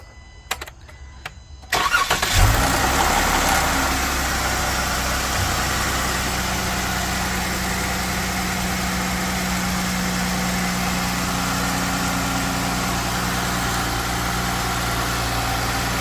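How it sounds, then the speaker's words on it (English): A Jeep Wrangler fitted with a new axle-back exhaust and new intake cranks over and fires up, then settles into a steady, loud, rumbling idle that continues alone for over ten seconds. "Fire up your hot rod, ma'am, with your new exhaust and your new intake."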